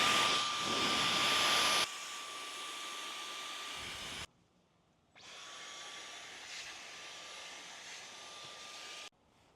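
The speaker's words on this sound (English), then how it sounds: "just vacuuming the inside, nothing special. I have my Dyson here." A Dyson vacuum cleaning the interior of a G80 BMW M3, a loud steady motor whine that cuts off abruptly partway through, then restarts at a slightly lower pitch and runs again before stopping.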